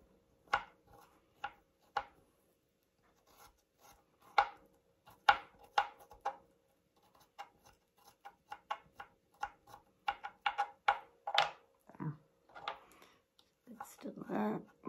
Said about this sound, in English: I'm just going to chop that into a few smallish bits